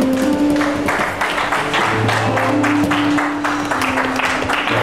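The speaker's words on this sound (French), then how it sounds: "If you are clapping, you will need to clap" A church congregation at a revival service in Conakry claps loudly and steadily in rhythm, mixed with music and crowd voices.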